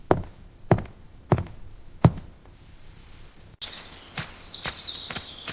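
Four spaced footsteps of a woman walking toward a living room inside a house at night, firm and fairly close with pauses between steps, followed by brighter clattering taps and knocks.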